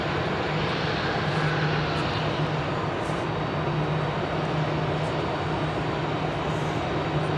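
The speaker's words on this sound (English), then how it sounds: "Our first heavy of the day is arriving shortly from Cincinnati," A Boeing 767 heavy airliner from Cincinnati arrives at Phoenix airport, a continuous broad jet roar with a faint whine, steady and moderately loud throughout.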